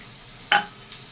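A soaked paste of chilli, cumin and turmeric hits hot oil with onion and tomato, giving one short, bright sizzle that flares up and quickly fades back to a quiet background.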